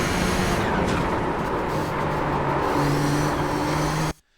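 Nissan GTP ZX-T race car in iRacing at Road Atlanta, its engine droning loud and steady at high speed with shifting pitch tones, then cutting off abruptly near the end.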